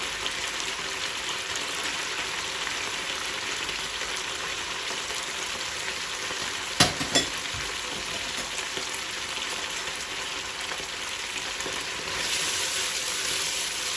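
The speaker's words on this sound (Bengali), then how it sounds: "পেঁয়াজের সাথে আদা রসুনটা আবার আমি 1-2 মিনিট খুব ভালো করে কষায় নিব।" Onion with ginger and garlic paste fries in a pan, a continuous, even sizzle heard close up, with a brief clatter of stirring midway and the sizzle swelling slightly near the end.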